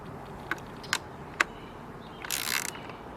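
Hand tools click and ratchet on a Wen generator being tightened after repair: three sharp, separate ticks, then a short rasping burst of ratchet clicks, close and fairly quiet.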